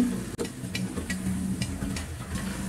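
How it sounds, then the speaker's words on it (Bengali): Snacks deep fry in hot oil, a steady soft sizzle with a few light clicks and stirring taps, close and alone without talking. "বাকি সবগুলোকে ভেজে নিব মুচমুচা করে"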